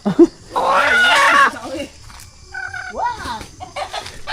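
Chickens cluck loudly and up close, a burst of squawking followed by several shorter clucks and calls, with a little background talk.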